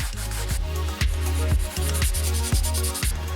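Hand sanding with 320 grit sandpaper across scratches on a carbon fiber spoiler lip: steady rhythmic rubbing strokes about twice a second, close and fairly loud, over a constant low hum.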